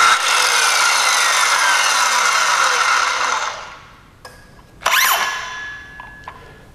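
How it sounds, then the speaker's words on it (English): A corded Skilsaw circular saw blade whirs loud and high, then spins down over a few seconds, leaving quiet handling clicks and one brief sharp burst near the end. "the corded Skilsaw that I have right here rotates longer than this battery-powered"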